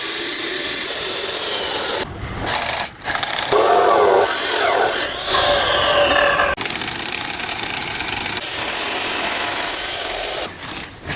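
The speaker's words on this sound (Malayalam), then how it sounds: "അപ്പോൾ അതിന് വേണ്ടിയിട്ട് നമുക്ക് ഈ സ്ലാബ് കട്ട് ചെയ്യണം." A power tool cuts through an 8-inch thick concrete slab at a heavy-duty job site, with a loud, harsh, continuous grinding roar broken by a few brief pauses.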